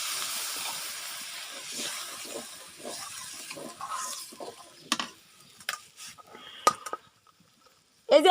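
Water poured into a pan of frying spice masala for a pangas fish curry sets off a loud hissing sizzle that gradually dies down, followed by scattered utensil clinks and a brief voice at the end.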